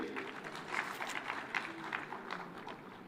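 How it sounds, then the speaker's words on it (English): A conference audience at the Devolution Conference in Homa-Bay claps steadily, a dense spread of many hands heard at a moderate distance, continuous and fairly even throughout, with no talking over it. "Let's give her a round of applause."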